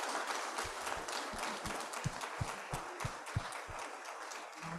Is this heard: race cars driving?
no